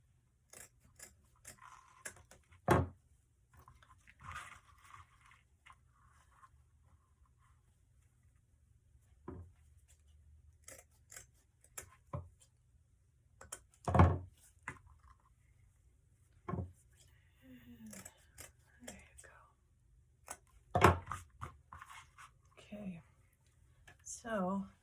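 Sharp scissors snip the ends of deco mesh wreath ribbon, trimming and dovetailing them, a handful of isolated close cuts spaced seconds apart in a quiet room, with someone talking softly in between.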